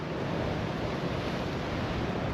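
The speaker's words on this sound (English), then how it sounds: "Look at how fast the water is moving." Fast-moving water in the Netherlands during stormy weather, a steady dense rushing wash close to the microphone with heavy wind buffeting throughout, no voices.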